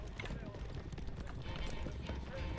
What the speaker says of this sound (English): His first 2 lancers arrive.